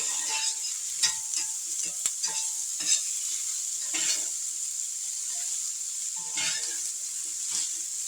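Cabbage, smoked sausage and onions sizzling steadily in a pan while a utensil stirs them, with scattered scraping clatters over the constant frying hiss.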